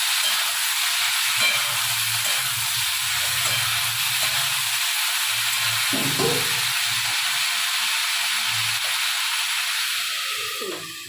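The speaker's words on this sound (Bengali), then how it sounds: "ততক্ষণে আলু আর বরবটিটা একটু ভাজাবো" Potatoes and yardlong beans fry in a pan, giving a steady broadband sizzle with faint low clatters of stirring throughout, close and continuous, easing off at the very end.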